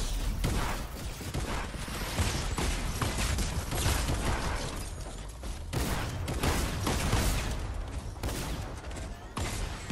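Fortnite Arena mode gameplay with rapid, dense gunfire bursts crackling almost continuously, loud and busy throughout, with no speech over it.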